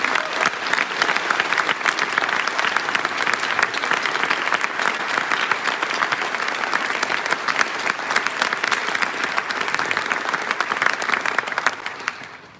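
An audience at a celebration event applauds, a steady, dense clapping that holds loud throughout and then begins to fade at the very end.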